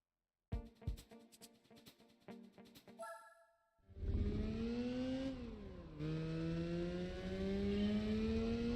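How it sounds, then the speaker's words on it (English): A Mazda RX-8 in Gran Turismo 4 revs up after a short burst of menu chimes, its rotary engine rising in a loud whine, dipping briefly during a gear change, then climbing again. "I know this is an RX-8 because of the engine sounds"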